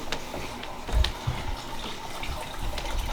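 Water running from a tap into a bath being filled for a pet snake, a steady gushing flow with a few splashes and knocks, close by, without speech.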